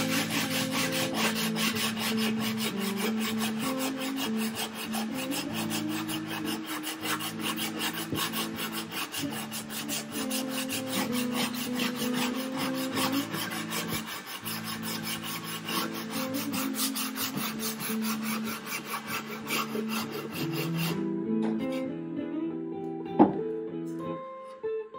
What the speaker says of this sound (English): What's nice about the sanding sponge, it'll bend to that contour that you put in that wood.